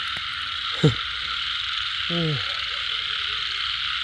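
Male frogs croak in the wet night of the year's second rain: a short croak near the start, then a longer falling call midway, over a steady high insect chorus. A voice briefly exclaims.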